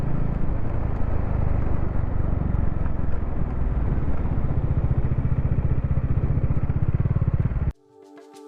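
Motorcycle riding toward a palace main gate, a loud steady engine drone with road clatter for most of the stretch, then cutting out abruptly near the end.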